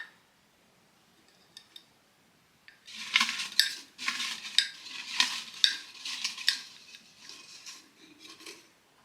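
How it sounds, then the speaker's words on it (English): A jar is opened, then hands rummage through the paper slips inside: a run of close, crisp papery rustles and light scrapes in uneven bursts after a quiet start. "I open my jar and give you a little bit of jar ASMR again"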